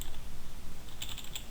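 Quick run of keystrokes on a computer keyboard, light rapid clicking close by with no voices.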